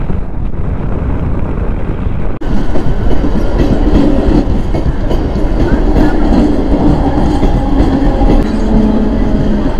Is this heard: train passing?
yes